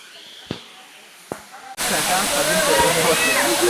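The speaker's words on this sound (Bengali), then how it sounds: "আজকে যেহেতু বৃষ্টি নেই তো সেই জন্য কিন্তু ঝর্ণাটা একটু কম পড়ছে" Waterfall at Muri Ghat near Ranchi, Jharkhand, running low on a dry monsoon day, heard as a sudden loud steady roar and hiss of falling water after a quieter start with two sharp knocks.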